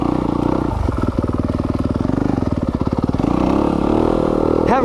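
A 2020 Yamaha YZ250 FX dirt bike ridden on mountain single track, its engine close and steady with a fast rhythmic pulsing and a rise in pitch near the end, with no talk.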